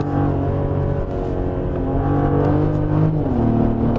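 A Genesis GV70 3.5T with its 380-horsepower engine pulls hard from a standstill to 100 km/h, a steady loud rising engine drone that shifts pitch near the end as a gear changes.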